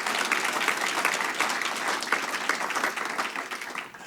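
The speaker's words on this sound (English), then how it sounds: "That deserves a round of applause right there." Round of applause from the audience at an annual Martin Luther King oratory competition in Chicago, sustained steady clapping that begins fading only near the end.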